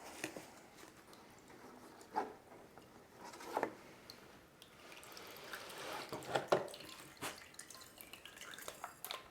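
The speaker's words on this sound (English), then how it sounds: "I do need to water it though" Water trickles and drips into the soil of a potted monstera, irregular soft splashes and patters coming close but fairly faint against a quiet indoor room.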